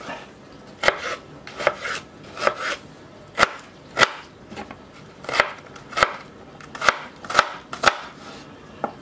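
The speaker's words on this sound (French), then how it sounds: "Je vais continuer par les hacher fin. Moi j'ai ma technique pour les hacher. Je fais des rondelles comme ça." A knife chops onions into fine rounds on a cutting board, giving sharp, distinct taps in an uneven, repeating rhythm, close and fairly loud with short pauses between bursts.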